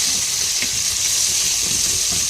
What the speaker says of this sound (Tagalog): Iprito natin yan, tapos ihiwalay natin. Iprito din natin yung labya.